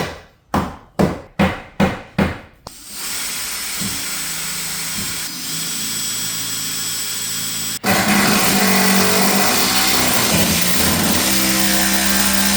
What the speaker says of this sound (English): hit it with a hammer at the top and the bottom where I have the lag screws